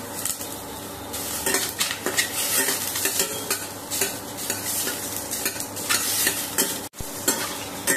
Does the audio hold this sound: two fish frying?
yes